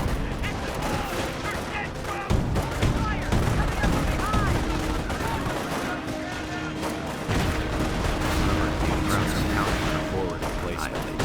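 Dense gunfire and explosions from the Company of Heroes World War II strategy game: rapid rifle and machine-gun bursts with heavy booms in a continuous battle din, with someone talking over it.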